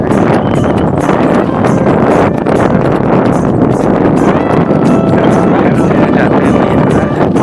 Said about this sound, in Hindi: कितनी अच्छी हवा चल रही है।